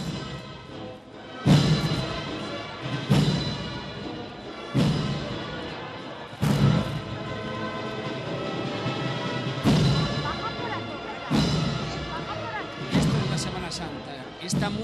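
A marching band marches in the Jesús Despojado Holy Week procession in Salamanca, its bass drum booming at a slow, regular beat under brass and street noise, with people talking nearby.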